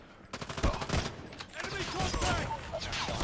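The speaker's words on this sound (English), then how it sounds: "who's shooting at me?" Video game gunfire, a scattered volley of shots and bursts in a busy, noisy mix, fairly faint, with sharper cracks early on and denser firing later.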